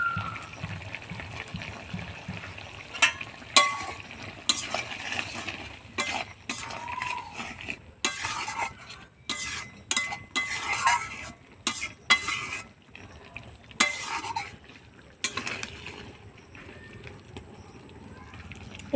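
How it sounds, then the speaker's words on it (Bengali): Prawn curry gravy simmering in a pan and being stirred, with repeated scraping and clinking strokes over a soft bubbling sizzle, close and moderately loud throughout. "2 মিনিট মতন ফুটিয়ে নিয়েছি চিংড়ি মাছ দিয়ে গ্রেভিটা।"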